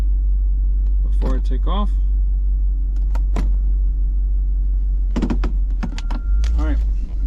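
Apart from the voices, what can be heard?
car engine running, driven through the gears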